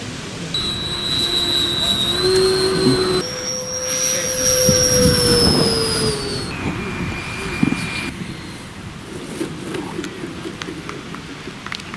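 An RC model jet, a Su-XR, whines with a high turbine tone as it flies on a very windy day, the pitch shifting between steady notes against a noisy, gusty background.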